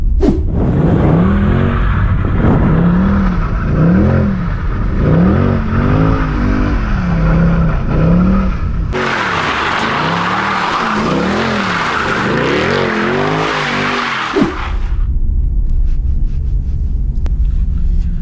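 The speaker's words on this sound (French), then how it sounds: "ça peut aussi servir à faire des donuts ou à faire des burns" A Mercedes C63, rear-wheel drive, spins donuts, its engine revving in rising and falling surges over sustained tire screech. A harsher, louder burst of skidding follows before cutting off, leaving a low idle rumble.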